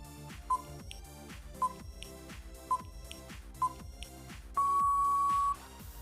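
A telephone gives four short, evenly spaced beeps followed by one longer sustained tone, clean and close, with no one speaking.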